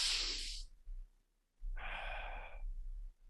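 Sharp, forceful breaths drawn in to push the heart rate up: a loud rushing inhale, a pause, then a second harsh breath, close and alone.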